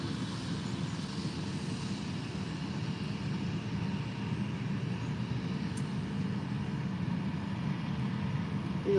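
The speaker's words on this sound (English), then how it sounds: "as you might hear, the 737 MAX 8 is taxiing" A Boeing 737 MAX 8 taxiing at Faro airport gives a steady, continuous low jet engine rumble and roar, moderately distant and unbroken, with no voices over it.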